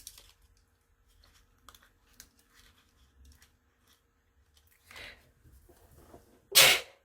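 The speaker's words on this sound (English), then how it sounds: "I feel like I'm gonna sneeze." A single sharp sneeze bursts out near the end, loud and close, preceded by a smaller breathy intake and faint rustling in a quiet room.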